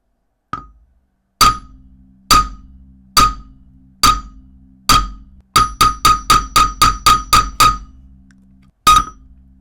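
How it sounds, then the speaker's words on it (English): Sharp glassy clinks from a hammer striking an Apple Watch Ultra screen protector, first in slow spaced blows, then a quick burst of rapid taps, and one final hit with the hammer's edge that cracks it. "cracked with the edge of the hammer"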